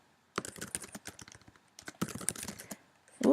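Quick, light clicking of keys on a computer keyboard, two short flurries of typing with a brief pause between them, close and fairly quiet, with no one speaking.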